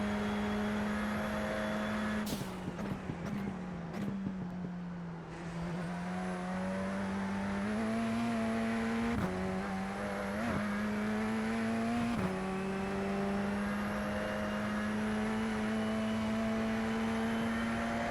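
A Radical SR10 race car engine at Road Atlanta in a racing video game holds a steady, high-pitched drone with brief gear-change dips and shifts, heard close and alone.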